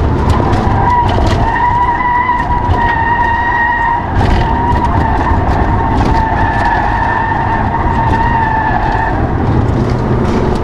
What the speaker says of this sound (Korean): 이게 코너 들어가면은 차가 되게 많이 기울어지는데 그 저쪽 타이어가 되게 잘 버텨주네요